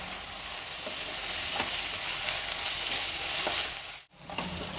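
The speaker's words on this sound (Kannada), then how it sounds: "ಇದನ್ನೀಗ ಚೆನ್ನಾಗಿ ಫ್ರೈ ಮಾಡೋಣ. ಮೆಂತ್ಯ ಸೊಪ್ಪೆಲ್ಲ ಚೆನ್ನಾಗಿ ಬಾಡಬೇಕು, ಅಲ್ಲಿವರೆಗೂ ಫ್ರೈ ಮಾಡೋಣ." Onion and fenugreek leaves fry in hot oil, giving a steady close sizzle with occasional stirring clicks throughout, briefly cut out near the end.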